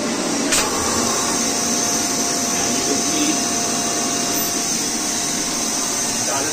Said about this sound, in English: And now I'm going to turn on my vacuum.